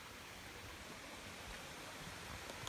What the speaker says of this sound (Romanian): s-aud la orizont cascadele